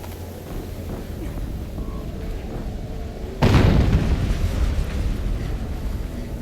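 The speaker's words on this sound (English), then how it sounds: "An explosion." An explosion in the video game Horizon Zero Dawn hits about halfway through as a sudden deep, loud boom, then rumbles on after quieter ambient game sound.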